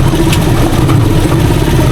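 A Rusi Chariot 175 trike engine idles close by with a steady, even rumble and no change in pace, heard alone without any voices.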